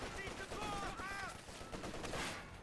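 Rapid video game gunfire crackles in bursts through a short stretch of a strategy match, with a commentator's voice running over the shots.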